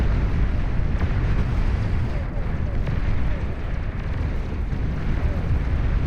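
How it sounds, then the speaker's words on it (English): Ragnarok long-range cannon shelling in the strategy game Beyond All Reason, a dense roar of heavy booms and rumbling blasts rolling continuously under a commentator's voice. "Juggernaut goes down to the Ragnarok, firing away."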